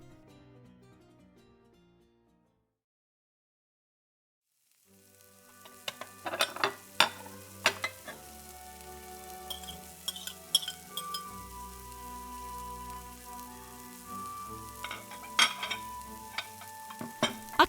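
In a home kitchen, pans sizzle and simmer while utensils clink and scrape against them in sharp, irregular taps, following a brief silent pause near the start.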